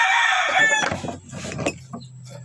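A rooster crows loudly and close by in a single call that trails off into softer clucking and low background noise, with no talk.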